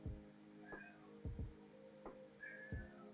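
A cat meows several times in quick succession, close but quiet, with short rising and falling cries in a still room.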